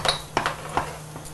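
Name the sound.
spoonful of cardamom powder added to halwa in pan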